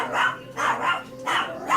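A dog barks in a close, loud series of four rough barks with short gaps between them, alone without talk.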